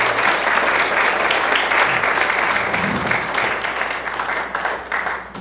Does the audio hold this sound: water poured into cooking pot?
no